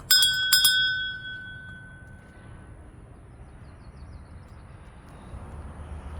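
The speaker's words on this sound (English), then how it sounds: "Where there's a bell, that means it needs to be rung." A small metal bell at graves in Rose Hill Cemetery, Macon, Georgia, is struck twice in quick succession, close and clear, then its bright ring fades over several seconds into quiet outdoor ambience.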